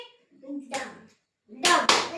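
Children clap their hands in a classroom, two bursts of brisk clapping separated by a short pause, mixed with faint voices.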